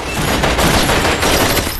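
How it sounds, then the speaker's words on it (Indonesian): Rapid bursts of gunfire crackle in a shootout from an action film about a former marine debt collector working for mafia bosses, loud, dense and continuous throughout the short stretch. "Kemudian mereka saling berbaku tembak."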